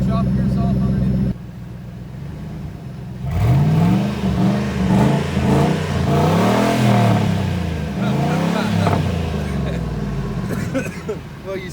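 A 4.6L Triton truck engine with the muffler deleted roars and revs repeatedly with a raw, unmuffled growl, after a brief steady idle.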